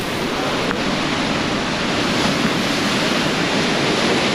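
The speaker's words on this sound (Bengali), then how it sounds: "সমুদ্রের বিশাল বিশাল ঢেউ" Huge waves crash on the beach at Kuakata, heard up close as a constant heavy rush of surf with no talking.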